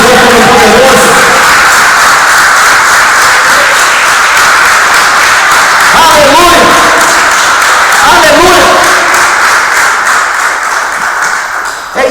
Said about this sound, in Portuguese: aplauda esse Deus todo-poderoso.